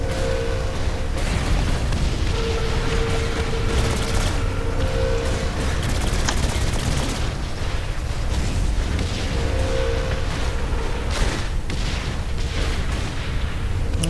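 Dense, continuous rumbling booms and crackling bursts from a firecracker in Saints Row IV, loud and steady throughout, like a chain of explosions, with faint tonal beeps mixed in.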